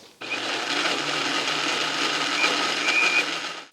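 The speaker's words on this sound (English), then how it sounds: "continue blending till we get a smooth paste" Blender grinding cashew nuts into a smooth paste, a steady loud whirring drone that runs unbroken from start to finish with no talk.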